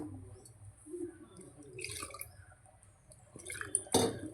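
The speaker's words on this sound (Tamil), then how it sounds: "தண்ணி கொஞ்சம் ஊற்றுங்க" Water splashes and trickles into a pot of chicken curry masala in short pours, with a few clinks and a louder splash near the end.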